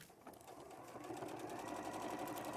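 A domestic sewing machine runs steadily, stitching fabric for a patchwork jacket with a quiet, fast, even mechanical whir that continues throughout at low volume.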